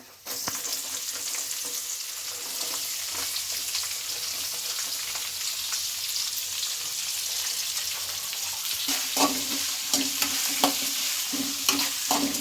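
Onions frying in oil in a pan for mango rice, a continuous soft sizzle with scraping stir strokes growing busier toward the end.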